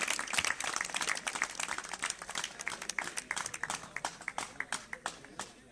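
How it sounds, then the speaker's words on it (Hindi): A crowd at a celebration in a defence academy breaks into applause to welcome a speaker, dense clapping from many hands that thins toward the end into scattered individual claps. "जोरदार तालियों से स्वागत करें सुरेंद्र सर का"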